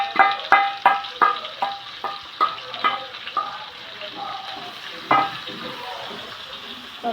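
Sliced onions fry in a pan for Manjali biryani, with a run of sharp, rhythmic scraping strokes from stirring over a steady sizzle, the stirs fading off midway and returning once more.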